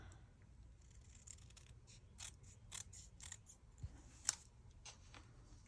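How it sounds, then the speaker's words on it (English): Scissors snip through mixed media board in a series of faint, crisp cuts with small clicks, spaced irregularly in a quiet room. "I'm gonna go grab my scissors and try and get that line a little straighter"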